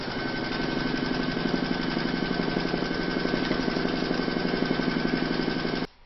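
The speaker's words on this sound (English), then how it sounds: "Pop your hoop into your machine, and that's going to secure your batting in place and give you your placement outlines for your fabrics." An embroidery machine stitching a placement outline through batting in a hoop, a steady loud rapid mechanical chatter that runs continuously for about six seconds before stopping abruptly.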